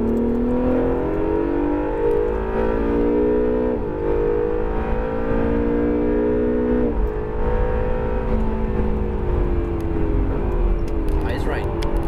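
An Acura NSX engine drones loudly on a race track, rising in pitch in several long pulls with brief dips between, while an instructor's voice talks over it throughout.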